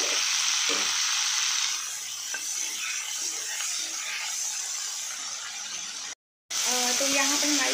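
Tomatoes and green chillies sizzling with half-cooked onions in a pan, a steady close hiss of frying with occasional stirring, and a brief cut near the end.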